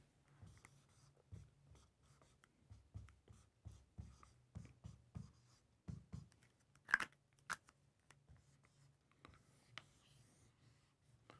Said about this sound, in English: Let me write that up.